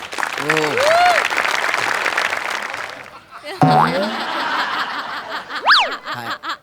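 Audience applause at an award ceremony on a Marathi comedy show, loud, close clapping with chuckles and laughter mixed in, broken by a short gap and playful boing-like sound effects.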